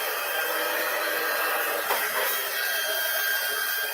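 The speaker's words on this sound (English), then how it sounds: "So I'm going to turn my heat tool on here. It's going to make some noise, so it'll warm up a minute." An embossing heat tool runs continuously, a steady close blowing whir like a hair dryer with a faint shift in pitch midway, and no talking.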